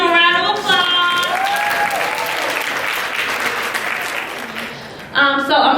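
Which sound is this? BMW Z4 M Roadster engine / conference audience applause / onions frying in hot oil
conference audience applause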